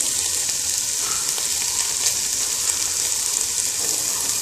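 Chickpeas fry in a pan with fried onions, giving a steady, close, continuous sizzle with a bright hiss throughout and faint occasional stirring.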